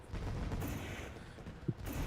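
Fireworks bursting on the right side of the track during a post-race celebration in a dirt-track racing sim at Eldora, heard as faint, scattered crackling pops over a steady background roar.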